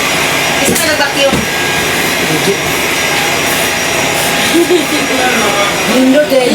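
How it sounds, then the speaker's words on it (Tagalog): A vacuum cleaner runs continuously in an Airbnb unit in Davao City, giving a loud, steady roar with people talking faintly underneath. "Isa ka nag-vacuum."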